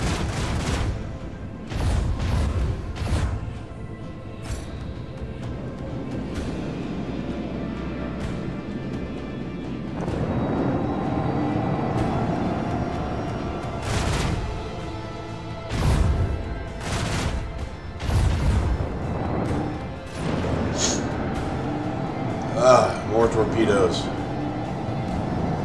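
Space battle in Rogue Trader with ship artillery and torpedoes, scattered booms and heavy impacts rolling through the whole stretch while a voice talks almost continuously over the fighting.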